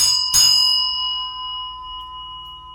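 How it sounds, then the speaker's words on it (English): A single clear bell strike followed by a long, slowly fading ringing tone in a quiet setting. "I like to do the ring of the bell"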